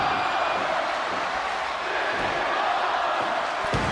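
A wrestling crowd roars steadily throughout a live show, a continuous broad wash of cheering with no distinct pauses and a brief thump near the end.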